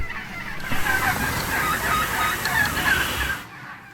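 A large flock of birds flying down from their roost into a neighboring field in Nebraska calls and gobbles in a dense, continuous chorus, with steady wing and rustling noise underneath, fading out abruptly at the end.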